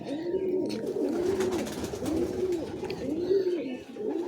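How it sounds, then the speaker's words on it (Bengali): A giribaz pigeon in a home loft coos in a slow, repeating rolling pattern, about five close, clear coos in a row over faint background noise. "এটা গেরোবাজ পায়রা,"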